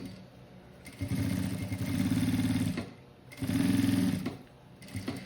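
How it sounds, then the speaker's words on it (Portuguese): A sewing machine stitches piping all the way around the edge of a fabric piece for a Kombi-themed cosmetic case, in two loud, close, steady runs of whirring with a short pause between them. "Vou colocar o meu vivo bem rente à peça. E vou costurar toda a volta"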